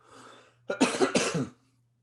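A short burst of harsh coughing, two or three rough coughs close to the mic, preceded by a softer breathy throat sound.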